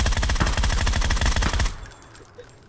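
Rapid bursts of automatic gunfire in the battle royale game PUBG, loud and close, a dense rattling stream for about a second and a half before cutting off into quiet ambience.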